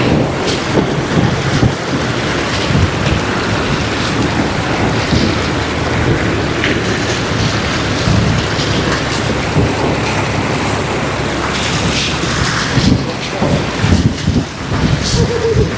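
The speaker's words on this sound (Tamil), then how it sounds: "பாதி வண்டி டோர் வரைக்கும் தண்ணி வந்துருச்சு" A vehicle ploughs through deep river water up to its doors on a village route in the Nilgiris, with steady loud rushing, sloshing water and wind buffeting throughout, no talk.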